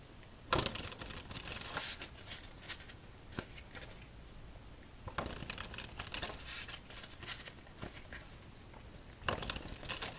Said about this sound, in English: shuffle up our cards